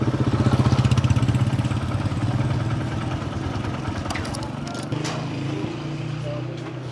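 A motorcycle engine starts and settles into a steady idle, its low throbbing pulse loud and close at first, then running evenly under occasional clatter and nearby talk.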